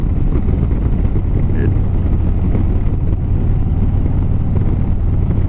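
Harley-Davidson Street Glide with a Milwaukee-Eight 107 engine riding on the road at a steady pace, with a continuous low engine rumble mixed with heavy wind roar throughout.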